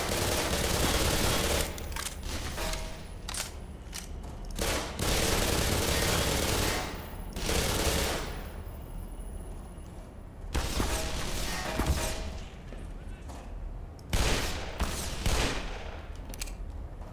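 Bursts of video game gunfire and magnum shots in Black Mesa keep up loud, dense, rapid volleys in repeated bursts, with short gaps between them.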